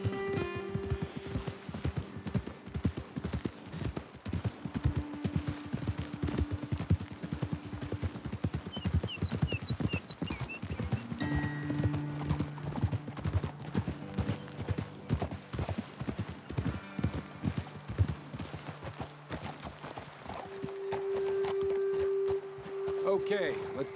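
Horses' hooves clip-clop steadily on a trail in the Red Dead Redemption 2 video game, a continuous close rhythmic patter with an occasional whinny, while people talk over it.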